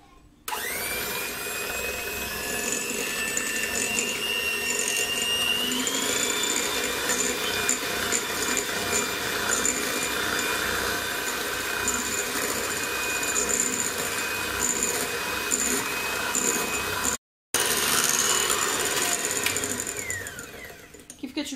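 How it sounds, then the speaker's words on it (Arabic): An electric mixer beats eggs and cake batter ingredients with a steady, close whirring drone, its pitch shifting slightly as the mix thickens, then cutting out briefly before resuming. "وغادي نطرب جميع هاد المكونات حتى كتطلع لينا كيطلع لينا البيض"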